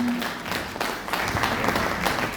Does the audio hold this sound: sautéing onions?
no